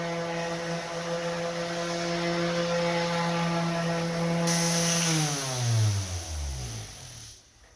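An orbital sander runs on wood with the grain, giving a steady motor whine with a rising hum at first, then slowing and dropping in pitch as it winds down near the end, alone and fairly close.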